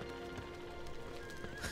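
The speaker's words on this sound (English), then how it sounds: "Look at the horse! Let's ride the horse." A horse in the video game Torchlight 2 neighs while its hooves clip-clop steadily close by, a short burst of whinny and hoofbeats over a soft background wash.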